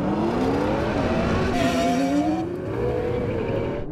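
Several sports cars, a Porsche, Ferrari, Lamborghini and Aston Martin, drag racing side by side, their engines roaring loudly and rising steadily in pitch as they accelerate together, with faint tire noise and no talk.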